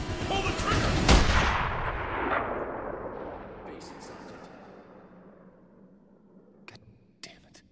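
A single loud, close sniper rifle shot in the video game Sniper Ghost Warrior 2, a sharp crack followed by a long, fading rumbling echo, then a few faint clicks.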